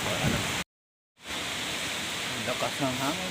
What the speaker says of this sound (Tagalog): lakas ng hangin sobra nataga yung bubong